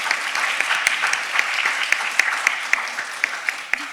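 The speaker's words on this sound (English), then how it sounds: "one last round of applause for our panelists." A conference audience gives panelists a steady round of applause, dense clapping from a crowd with some sharper individual claps standing out.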